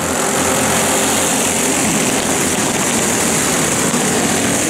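Super heavy race cars roar together at the start of a Maxxis Series race at Hurricane Raceway in Alma, Georgia, a dense, loud, unbroken wall of engine noise with no distinct passes.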